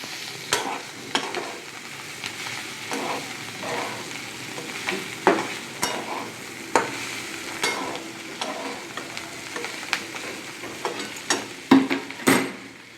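Banana flower and rice pilaf being stirred in a pan, a low sizzle under repeated sharp scrapes and knocks of a spatula against the pan, spaced irregularly across the stretch with no talk.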